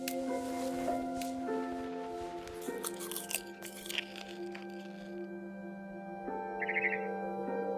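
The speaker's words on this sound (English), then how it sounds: "Then I heard chirping outside my window." A barn swallow chirps outside a window in the What Remains of Edith Finch game, brief high calls appearing late amid sustained tonal game music and a few crunchy effects.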